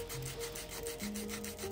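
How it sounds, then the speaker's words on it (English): Sandpaper of 120 grit rubs steadily against the edge of a coin, a close, continuous rasping scrape with a faint rhythmic pulse. "we're going to skip that and just use 120 grit sandpaper"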